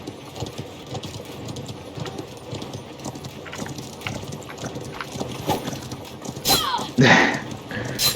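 Horse hooves clatter in a battle in the video game Conqueror's Blade, a loose rhythmic clip-clop under mechanical din, with a louder burst of effects near the end.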